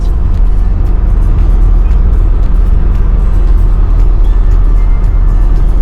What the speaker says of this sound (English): driving the van